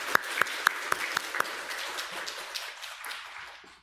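A church congregation claps in praise during a Sunday service: about six sharp, evenly spaced claps ring out in unison in a reverberant room, then trail into softer scattered clapping that fades away.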